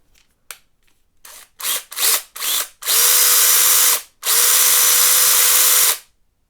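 A small DINSHARE 20V electric chainsaw gives a few short bursts, then runs steadily at full speed twice, a loud high whine with a brief pause between.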